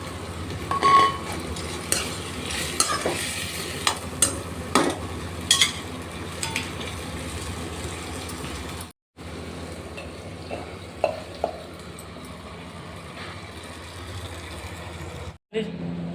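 Tomatoes and other vegetables frying in a home kitchen pan, a steady soft sizzle with scattered stirring clicks and scrapes, a brief drop to silence midway, with faint voices in the background.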